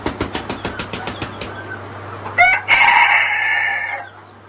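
A rooster crows loudly and close among ornamental chickens in a Brahma-keeping aviary, one long call after a run of sharp rhythmic clucks, with a steady low hum underneath.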